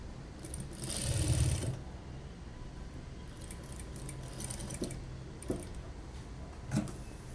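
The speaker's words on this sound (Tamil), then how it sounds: "முக்கோணம் இந்த ஷேப்பாகவே எல்லாத்துலேயுமே ஒரு ஸ்டிச் பண்ணி எடுத்துடலாம்." A sewing machine stitches a triangle shape in fabric with a short, close burst of rapid needle whirring. Quieter handling clicks and rustles follow.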